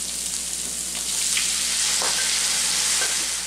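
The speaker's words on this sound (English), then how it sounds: "I'm going to stir that around a little bit first" Pan contents seasoned with salt and pepper being stirred over heat while cooking baked spaghetti, a steady close frying hiss with soft scraping stir strokes and no talk.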